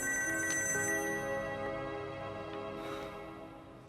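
An electronic telephone ringtone sounds steadily and fairly loudly, its bright tone holding throughout with no voices.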